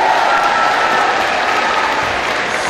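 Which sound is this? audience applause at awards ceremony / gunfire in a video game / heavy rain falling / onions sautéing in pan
audience applause at awards ceremony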